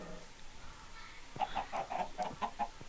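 Chicken clucks from a Minecraft Block Hunt minigame come in a quick run of short, evenly spaced calls, fairly faint and close, after a brief quiet stretch.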